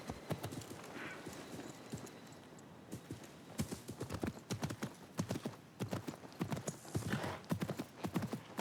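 A horse's hooves clip-clop in the Assassin's Creed Mirage video game, a close, rhythmic trot that pauses briefly before resuming at a steady pace.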